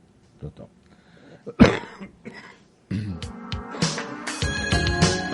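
Coughing from a lingering cold: one sharp, close cough with some throat noise around it, followed by continued speech.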